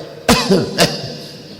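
Two harsh coughs close together, near and loud, followed by quiet.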